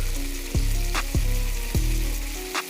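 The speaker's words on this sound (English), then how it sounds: "we got a nice, beautiful sear on this steak" A steak sears in a hot pan with a steady close sizzle, broken by three or four sharp metallic taps and scrapes as a fork moves the meat around.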